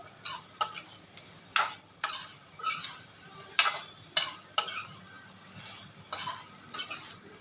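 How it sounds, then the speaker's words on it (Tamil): Masala for liver kofta curry is lightly sautéed in a pan, with a spoon scraping and tapping in a string of short, separate strokes over a soft, faint sizzle, and no talking. "இது எல்லாத்தையும் போட்டு கொஞ்சம் லைட்டாக வதக்கிக்கணும்"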